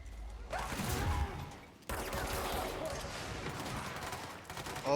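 A rocket launcher fires in the video game Control amid a sustained barrage of gunfire and explosions, loud and dense, with a sharp cut near two seconds before the chaotic combat noise resumes.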